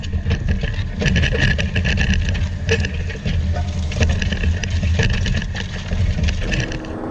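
JCB Combi Lift telehandler engine running steadily under load with tyres at about 16 psi digging into the ground, a constant loud low rumble with gritty crunching texture throughout.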